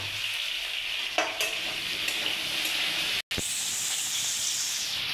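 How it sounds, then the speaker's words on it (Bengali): Potato pieces fry in hot oil in a pan, a steady crackling sizzle with occasional stirring scrapes, interrupted by a brief gap before the frying continues. "কষতে কষতে এদিকে আমি আলুটা ভেজে নেবো।"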